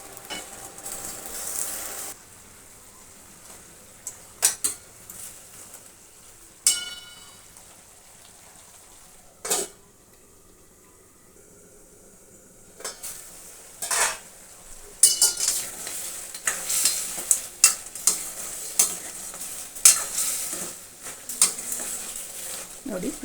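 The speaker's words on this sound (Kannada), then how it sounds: "ಇದು ಹಸಿ ವಾಸನೆ ಹೋಗೋ ತನಕ ಚೆನ್ನಾಗಿ ಹುರಿಬೇಕು ಎಣ್ಣೆಯಲ್ಲಿ." Whole spices tempered in oil on a home stove sizzle softly, with a few sharp clanks of a ladle stirring in the pan, then louder spattering and scraping toward the end.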